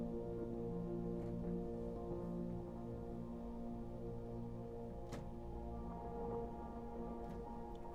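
Fracture Sounds Spotlight Piano sample library playing layered atmospheric pad and texture tones, a quiet sustained wash of held notes with faint shimmering detail and no talking.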